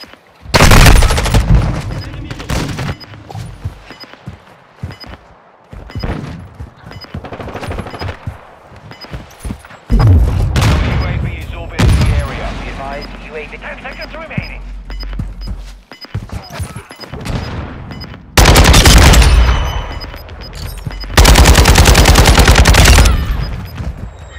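Rapid automatic gunfire and single shots from the Call of Duty: Modern Warfare II video game, loud bursts in several separate volleys with brief pauses between them, mostly alone with little talk.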